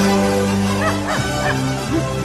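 A dog gives a few short, yelping barks and whimpers at close range over a steady background hum, with no talk.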